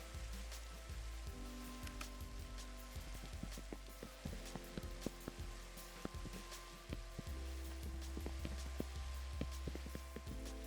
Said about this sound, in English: I'm gonna use the fact that it's raining right now to know where to put torches.